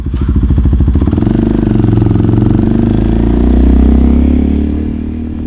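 A Kawasaki KLX 230 motorcycle engine idles up close and loud, a fast, even single-cylinder thump that swells slightly before easing back.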